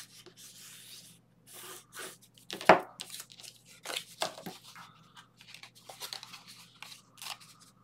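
Scissors snip and rub through paper and cardstock for a handmade shaker scrapbook album, giving short irregular crisp cuts up close with one sharp loud snip, in a quiet room with no talking.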